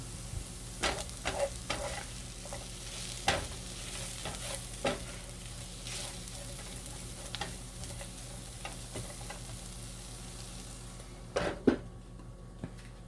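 Bitter gourd and ground masala powder are stirred in a frying pan over a medium flame, with irregular scraping taps of the spoon against the pan over a soft steady sizzle.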